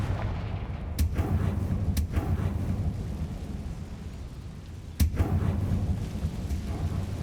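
Confringo fire spell blasts from Hogwarts Legacy, three sharp booming bursts about a second or more apart, the last one loudest, each trailing into a low roaring rumble.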